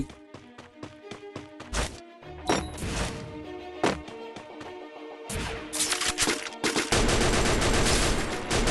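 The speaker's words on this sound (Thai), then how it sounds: "ช่วงนี้ผมเริ่มติดใจปืนนี้ละเวลา นั่งยิงโคตรเร็วอะรัวโคตรแรง โคตรลั่น โคตรอันตราย" An M60 machine gun in Free Fire fires loud, close rapid bursts, first choppy short volleys and then a long sustained rattle, with sharp impact cracks mixed in.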